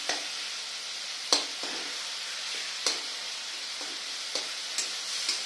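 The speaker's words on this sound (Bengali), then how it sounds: "মশলাটা দেখুন ভালো করে কষে নিচ্ছি।" Spice masala being fried and stirred in a pan, a soft low sizzle broken by a series of sharp scrape-and-clack stirring strokes at irregular intervals, fairly quiet and close, with no voices.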